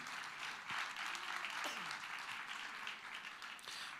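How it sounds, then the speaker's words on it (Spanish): A church congregation gives a sustained round of applause in praise, steady and even throughout, heard from a distance at a low level with faint voices mixed in. "Fuerte ese aplauso de alabanza al Señor."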